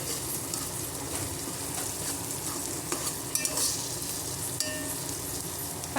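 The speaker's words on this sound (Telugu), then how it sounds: "పచ్చివాసన పోయే వరకు ఫ్రై చేయాలి." Ginger garlic paste fries in a pan for egg biryani, giving a steady sizzling hiss broken by the scrape and clack of a spoon stirring against the metal, with no voices.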